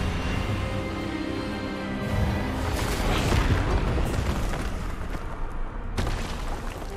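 An Expelliarmus spell blast in the video game Hogwarts Legacy: a loud, sustained booming rumble that swells and rolls on for several seconds, with no talking.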